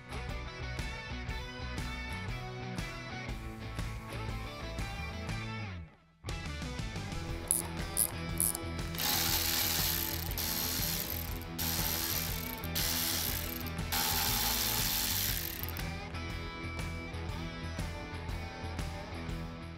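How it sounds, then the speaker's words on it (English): A ratchet fitted with a T45 bit backing out the rotor screws on a Harley Davidson, giving long runs of fast, dense clicking with a brief pause partway through, close and steady, with no one talking. "So to take these screws out, I'm using a T45."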